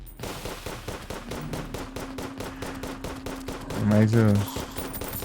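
The Onyx Blaster fires in Terraria, a rapid, steady stream of evenly spaced game gunshots with a heavier burst near the end, while someone talks briefly over it.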